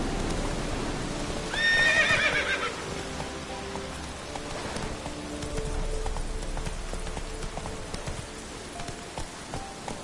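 Roach, the horse from The Witcher 3, neighs loudly in a short whinny while hooves clip-clop through steady rain, the galloping and downpour continuing evenly after the call.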